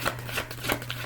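Tarot cards are shuffled close by in a short, soft riffle of papery flutters, ending with a sharper snap.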